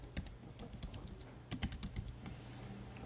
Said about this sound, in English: by pressing command enter on your keyboard